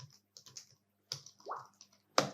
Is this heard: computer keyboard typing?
yes